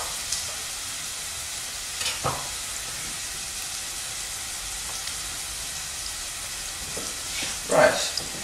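Chopped onion and finely cut garlic sizzle in olive oil in a pan as risotto is started, a steady hiss with a few scraping stir sounds, close and moderately loud with no talk.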